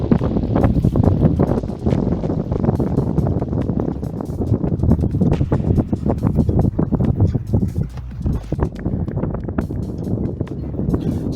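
Strong gusts of wind buffet the microphone outdoors on a sailing yacht, a loud rumbling roar that rises and falls continuously.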